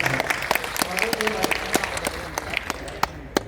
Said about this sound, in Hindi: एक बार आप तालियां बजा दीजिए